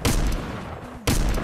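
Dense burst of gunfire inside the video game Fortnite, loud and continuous for about a second before a brief drop-out and then another loud burst; no talking.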